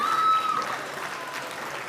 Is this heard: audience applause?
yes